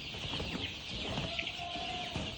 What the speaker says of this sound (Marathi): पाहू शकता पक्षी कसा आपला पळतोय आता पूर्ण फ्री केलेला आहे पक्षी